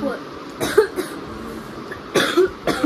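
Several short, sharp coughs come in quick bursts, close and fairly loud, with quiet room noise in between.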